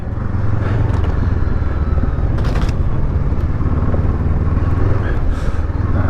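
A Honda CL500 motorcycle rides along a muddy grass trail, its engine holding a loud, steady rumble close to the microphone, with brief scrapes and clatter from the wheels over wet ground and no one speaking.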